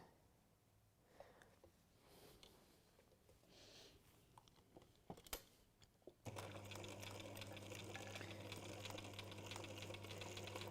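Sewing machine stitching fabric seams starts up after several seconds of quiet handling noises, then runs in a loud, even, continuous drone close by.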